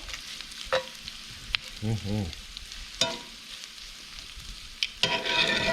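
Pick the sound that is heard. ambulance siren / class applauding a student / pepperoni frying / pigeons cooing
pepperoni frying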